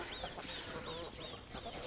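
Chickens clucking and squawking in short repeated bursts close by, with rustling movement in the background.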